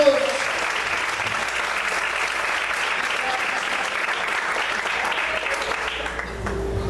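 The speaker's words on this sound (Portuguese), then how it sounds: "Você pode aplaudir o Senhor nessa noite." During an evangelical church service, the congregation claps for the Lord at night: a thick, continuous wash of many hands applauding, sustained and fairly loud throughout, easing slightly at the very end.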